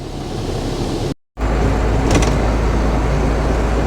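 A push-to-start dump truck idles in a steady, loud rumble that cuts out for a moment, then returns, with a brief mechanical whir shortly after.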